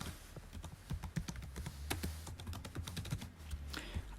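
Keys on a computer keyboard clatter in a steady run of quick, close taps as a password is entered into a Hikvision Wi-Fi doorbell setup, with no talking.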